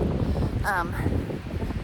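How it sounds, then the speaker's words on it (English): Blustery wind on the Appalachian Trail between Newfound Gap and I-40 buffets the microphone with a low rumbling roar, steady gusts throughout and a brief higher tone partway through. "It's windy."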